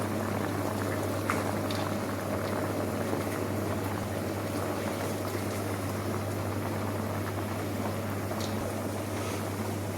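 Continuous bubbling and simmering of long grain basmati rice boiling in water, steady throughout with a low constant hum underneath.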